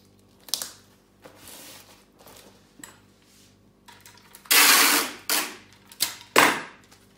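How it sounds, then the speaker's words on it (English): Packing tape pulled off a roll and pressed onto a parcel holding painting panels, with soft handling taps first and then several loud ripping screeches of tape unspooling close by. "the packing tape can be put on with these, because the packing tape is what's going to hold it"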